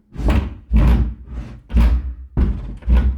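A sagging, sticky house door scrapes and rubs against its frame as it is swung closed, five or six loud bursts of grinding friction in a row, close by and with no voices.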